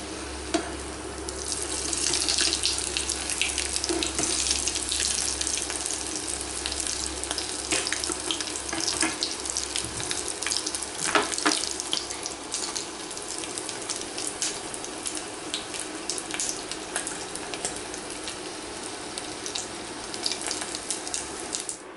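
Potato and tuna patties fry in a pan with a loud, continuous close sizzle and crackle that holds steady throughout, and no one talks.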